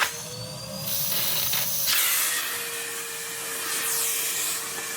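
Henry vacuum cleaner with a 620 watt motor running steadily, a loud continuous airflow hiss and whine close by, with a brief shift in tone partway through, no talking.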